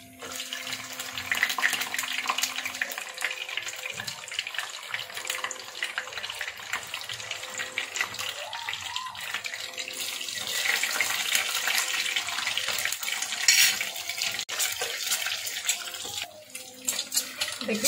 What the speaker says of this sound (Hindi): अंडे फ्राई कर लेंगे।